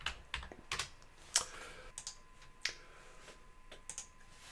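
Keys clatter on a computer keyboard as shell commands are entered, in short irregular bursts of clicks with brief pauses between, fairly quiet and close, with no talking.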